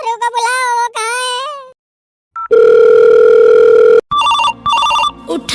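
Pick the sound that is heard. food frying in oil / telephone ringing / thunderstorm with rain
telephone ringing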